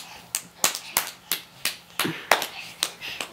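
A baby claps its hands in quick, slightly uneven slaps, roughly a dozen in a row, close and fairly loud, with no talking over them.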